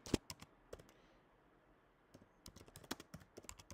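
Computer keyboard typing in short, quiet bursts of close key clicks separated by a lull, with no one speaking.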